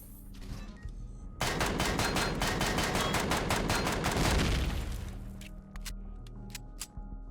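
Turret gunfire in Empyrion Galactic Survival, a loud rapid burst of evenly spaced shots lasting several seconds, then a few isolated single shots afterward.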